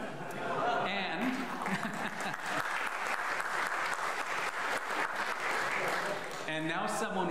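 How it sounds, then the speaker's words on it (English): A church congregation applauds its choir during a Sunday worship service, steady sustained clapping filling the room throughout, with a few voices audible underneath. "why did you have them clap for us today?"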